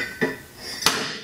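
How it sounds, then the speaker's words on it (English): A soil compaction test hammer drops onto a layer of soil, landing twice with sharp, moderately loud metallic thuds about half a second apart, with no talking over them. "repeat this dropping the hammer for the one layer"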